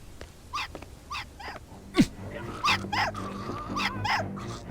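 Dog sounds from the stealth game Hitman: Blood Money, several short yelps and whimpers repeating in a quick irregular run, moderately loud over a low game background, with one sharper louder yelp midway.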